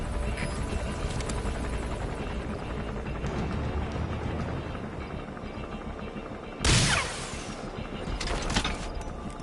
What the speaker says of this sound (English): That's an enemy gunship. A single burst from its machine gun could cut a man in half.